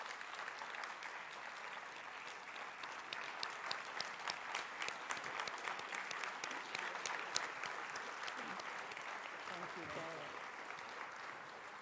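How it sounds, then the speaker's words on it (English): Sustained audience applause fills a summit hall for nearly twelve seconds at a steady, moderate level, with a faint voice briefly emerging near the end. "let's give them a round of applause"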